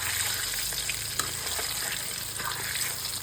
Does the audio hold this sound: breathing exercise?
no